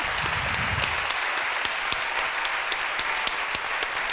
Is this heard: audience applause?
yes